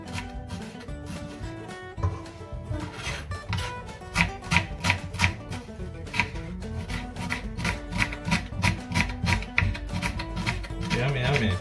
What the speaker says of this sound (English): Now I'm gonna cut very small the onion